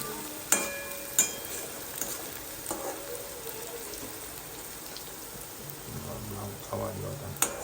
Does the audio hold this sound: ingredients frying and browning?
yes